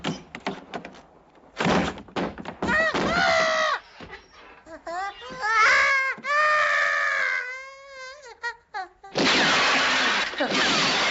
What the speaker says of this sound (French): Briser une glace porte malheur.